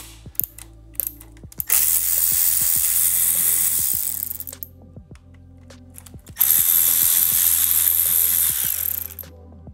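A ratchet clicks rapidly in bursts while 5mm bolts are removed from the brake perch clamp on a 2018-2023 Indian Roadmaster or Chieftain handlebar, with close loud hissing between the ratcheting.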